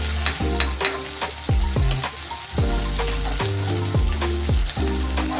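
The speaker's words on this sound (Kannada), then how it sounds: "ಕರಿಬೇವಿನ ಸೊಪ್ಪು ಹಾಕೋಣ. ಇದು ಲೈಟಾಗಿ ಫ್ರೈ ಆಗಬೇಕು." Curry leaves and green chillies fry in hot oil with a steady crackling sizzle, broken by repeated scraping stirs of a spoon in the pan, heard close and with no one talking.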